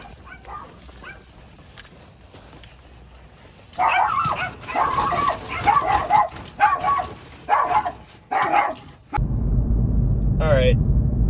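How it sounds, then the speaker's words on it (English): A dog barks wildly and repeatedly at a delivery, its frantic burst of loud barks and yips sounding from a short distance, then breaking off as a car door closes and engine rumble takes over. "That dog was going crazy."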